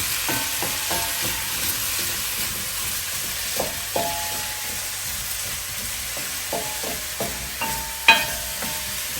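Vegetables and onions fry with a steady sizzle in a pan while being stirred, with scraping and clinking of the utensil against the pan at irregular intervals; no one speaks.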